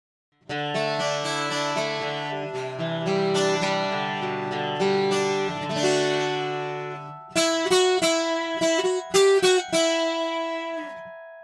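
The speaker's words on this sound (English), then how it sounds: "Sitar sounds like this." A sitar tone modeled by a Line 6 Variax Acoustic 700 guitar plays ringing, buzzy sustained notes, then a run of sharp plucked notes, loud and alone.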